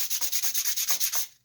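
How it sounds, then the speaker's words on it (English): Repeated back-and-forth strokes of 400-grit wet sandpaper on a sanding block over rusty steel, about eight rhythmic rasping passes, close and steady, with no talking. "sanding block, this is 400 wet sand, will give you a nice shine back to bare steel"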